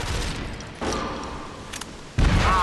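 A grenade blast and gunfire in the combat game SOCOM 4: short bursts of shots, then a sudden heavy explosion near the end, loud and close, with no voices.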